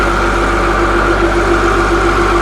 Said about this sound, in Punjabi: ਬਾਕੀ ਟਰੈਕਟਰ ਦੀ ਰੇਸ ਚੈੱਕ ਕਰਾਓ ਜੀ